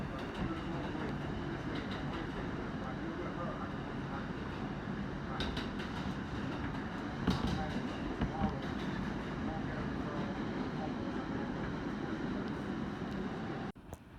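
A New York City subway train rolls on the Queens Boulevard line toward a station, a steady rumbling roar with rhythmic clatter of wheels on rails, a voice speaking over it.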